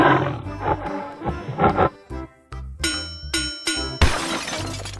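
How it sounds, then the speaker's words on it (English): A cartoonish lion roar in an animal transformation game, mixed with glassy shattering and chiming effects in short loud bursts. "Lion."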